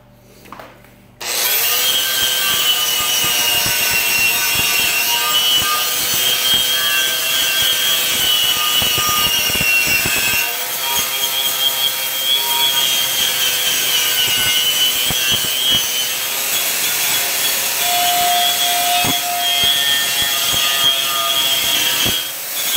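Tool scraping coatings off a trailer, a loud, continuous harsh grinding rasp that starts abruptly and keeps going for over twenty seconds with small shifts in pitch.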